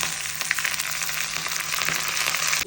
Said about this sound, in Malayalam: ഇതിങ്ങനെ വെളിച്ചെണ്ണയിൽ ഇങ്ങനെ പൊരിഞ്ഞ് വരുമ്പോൾ